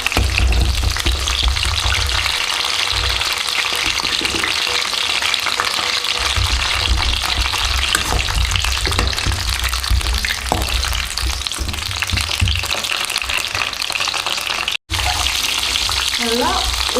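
Brinjal frying in hot oil while making a Tamil oil brinjal gravy, a steady dense sizzle with crackling pops running throughout at close range, briefly cut near the end.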